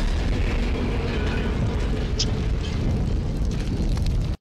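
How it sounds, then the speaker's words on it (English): Sustained rumbling explosions in the first-person shooter F.E.A.R.: Perseus Mandate, a loud continuous roar of blasts with a brief sharper crack midway, cutting off abruptly at the end. "That's a lot of explosions."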